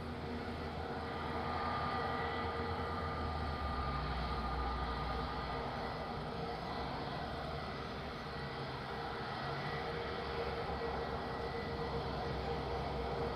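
An EasyJet airliner departs Madeira Island Airport, bound back to Lisbon, with a distant, steady engine rumble and a faint whine that stays even and low for the whole stretch.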